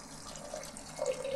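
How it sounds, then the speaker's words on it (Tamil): Water poured into a cooking pot while making South Indian sambar, a steady close splashing stream that swells louder near the end, with no talking. "நம்ம எவ்வளோ சாம்பார் வைக்கிறோமோ அவ்வளோ தண்ணி இப்போவே ஊற்றிடணும்."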